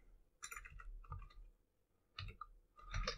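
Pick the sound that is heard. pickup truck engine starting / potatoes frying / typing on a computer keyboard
typing on a computer keyboard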